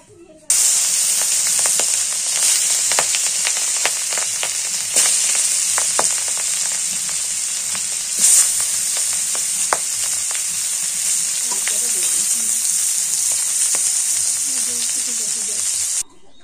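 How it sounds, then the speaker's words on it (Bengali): Fish fries in hot oil in a village kitchen, giving a loud, continuous sizzle and hiss with occasional crackles and spatters that runs steadily for the whole stretch. "মাছগুলো ভাজা হয়ে গেছে"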